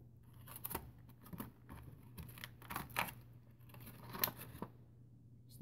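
Plastic clamshell packaging of a Coral Gorgon action figure being folded open and the figure popped out, giving a series of close, quiet crinkles, snaps and scraping rustles in short irregular bursts.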